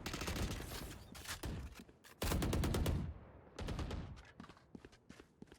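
Rapid bursts of automatic gunfire sprayed through smoke in a Valorant tournament match, loud and dense with brief gaps, then a sharper burst and scattered single shots toward the end.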